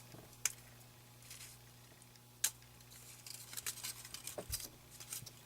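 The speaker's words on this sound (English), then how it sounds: "So I'm just going to go in here and cut a little piece" Scissors snip a small piece of sticky tape while a Spellbinders pinwheel greeting card is being made, two sharp isolated cuts followed by a run of soft rapid snips and light rustling, close and quiet.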